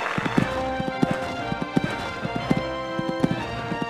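In Equestriad 2001, a horse gallops on the Kentucky three-day event cross-country course, its hooves clip-clopping in a steady, rapid rhythm up close over a faint background, with no talking.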